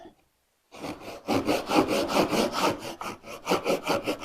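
Japanese hand saw cutting a wooden dado, rhythmic back-and-forth rasping strokes, close and loud, starting after a brief silence and speeding up toward the end.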